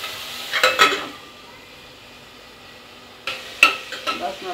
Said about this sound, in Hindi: तो आपको ऐसे ही प्याज को भूनते रहना है और बीच बीच में इसको ढक भी देना है